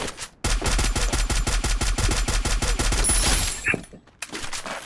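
Automatic gunfire in a battle royale mobile game, a rapid loud burst of evenly spaced shots lasting several seconds, followed by a short pause and a few more shots.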